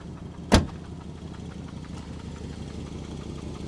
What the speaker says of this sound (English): So there is an exhaust leak, it sounds like to me.